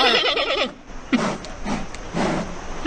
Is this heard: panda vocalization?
yes